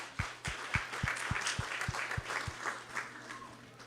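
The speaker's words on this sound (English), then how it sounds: "Please give her a round of applause." Audience applause at a Krishna Katha devotional gathering, a dense wash of clapping with a steady run of low, evenly spaced thumps beneath it, lasting the whole stretch.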